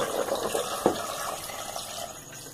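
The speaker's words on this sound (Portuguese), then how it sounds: "Agora eu vou colocar a água." Water is poured steadily into a cooking pot of sautéed ribs for xerém with ribs, a continuous close splashing and filling sound with one brief sharper splash, and no talking.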